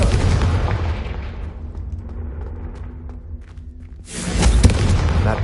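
Casting the Confringo fire spell in Hogwarts Legacy sets off a loud booming blast that fades into a crackling tail, and a second burst hits near the end.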